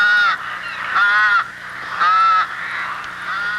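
Rooks calling at a busy rookery, harsh rasping caws arriving in three loud bursts over a steady background chorus of other birds.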